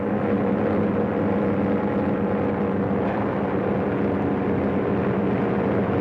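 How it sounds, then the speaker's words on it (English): A 1934 patrol airplane flying overhead, a loud, steady propeller-engine drone with a constant low hum and no break across the whole stretch, no voices over it. "Patrol plane!"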